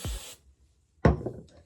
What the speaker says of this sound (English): spray some of my holding spray